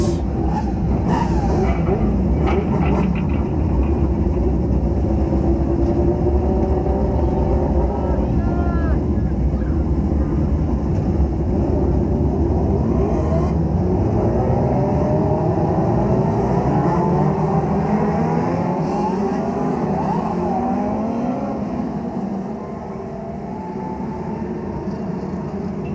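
Several Hyper Racing 600 winged race car engines start and rev together at Clyde Martin Memorial Speedway before a Labor Day Shootout feature, a loud dense roar that builds into rising, overlapping revs, with a voice over the racket.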